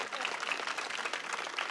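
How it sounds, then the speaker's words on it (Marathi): An audience claps at a political event in Maharashtra, a continuous patter of applause heard fairly faint and distant, with no clear talk over it. "होऊन द्या टाळ्या जोरात।"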